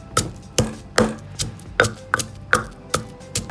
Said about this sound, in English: I'm gonna pound them now. Just coarsely pound them.